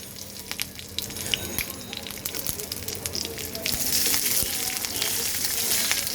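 Green chilies go into a sizzling pan while cabbage is cooked vegetarian style. The crackle is sharp and uneven at first, with scattered pops, then swells into a louder, steady hiss.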